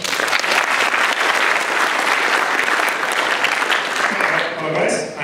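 A conference audience at a lightning-talk session claps loudly and steadily, a dense continuous applause that tapers off at the end.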